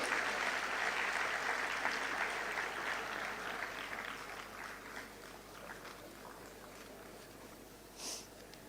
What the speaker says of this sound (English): He deserves a big round of applause for Dr. Shivatanu Pillai.